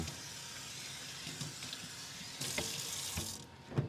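Water runs steadily from a tap while something is rinsed out, a continuous hiss of splashing that swells louder near the end before being shut off with a small clunk; no talking.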